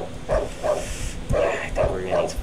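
A dog in the horror game Darkwood gives several repeated barks at an even rhythm, each a short sharp yelp, while a person talks over them.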